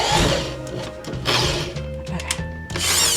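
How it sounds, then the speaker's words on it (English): A power drill bores into a wooden wall stud while a bookshelf is being hung, a loud continuous whirring grind that rises and dips in pitch with short pauses as the bit bites into the wood. "So I'm drilling into wood."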